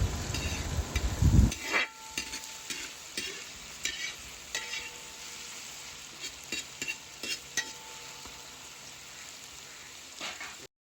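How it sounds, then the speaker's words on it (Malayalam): Chopped ingredients sizzle steadily in a hot pan for Malayali beef stew, with repeated scraping clicks of a spoon stirring through them, close and continuous with no talking. "ആ ഒരു പച്ചപ്പ് മാറി വരുന്നവരെ, ഒന്ന് വാടി വരുന്നവരെ നമുക്ക് നല്ലപോലെ തന്നെ ഇളക്കി കൊടുക്കാം."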